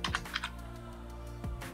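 Someone types an author's name into a Scopus search on a computer keyboard: a quick, light run of keystrokes over a steady low hum, with no speech.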